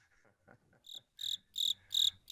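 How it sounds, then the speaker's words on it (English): Crickets chirp in a small, close, quiet sequence: a few faint, scattered sounds lead into four clear, evenly spaced trills that grow louder, with no talking over them. "could you insert crickets there in post?"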